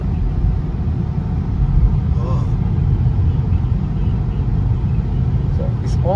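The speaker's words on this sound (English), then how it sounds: "All by itself, we can see the car is coming to the stop." A Tesla on Autopilot brakes to a stop by itself, heard from inside the cabin as a steady low road and engine rumble, with a few faint tonal blips near the end.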